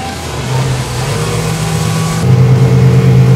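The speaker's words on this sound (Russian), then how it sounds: "Я попытаюсь развернуть катер с минимальным радиусом на скорости близко к 70." Aluma Fish 5.1 XL motorboat engine held near top speed through a tight, minimum-radius turn, a steady loud mid-pitched drone that rises and strains partway through, with no talking.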